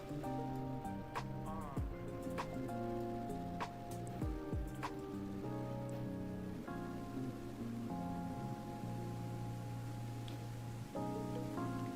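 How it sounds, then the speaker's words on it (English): Rain in the video game Snow Plowing Simulator makes a steady, soft hiss throughout, under loud droning engine tones and occasional sweeping pitch slides. "The weather is like weird on this game. Like, I feel like it's snowing and raining way too much."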